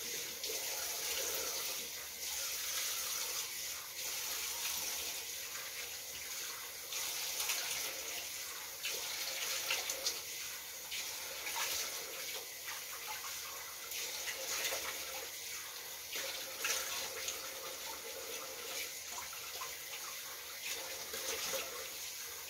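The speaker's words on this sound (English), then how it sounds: "I'm gonna rinse this off with cool water." Cool tap water runs steadily into a sink to rinse off a face mask, a continuous faint splashing hiss lasting the whole stretch with small bursts of spatter.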